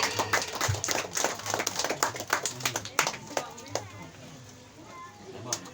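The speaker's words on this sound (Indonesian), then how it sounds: "Tepuk tangannya lagi sekali lagi" Scattered clapping from a small crowd, uneven and fairly quiet, with a few voices murmuring underneath as the claps thin out.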